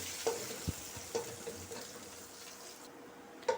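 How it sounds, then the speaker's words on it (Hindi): Whole chillies and cumin seeds temper in hot oil for a tadka, giving a soft, steady sizzle broken by a few sharp clinks of a spoon against the pan. "हल्का सा मिर्चों और ज़ीरों का तड़का करेंगे।"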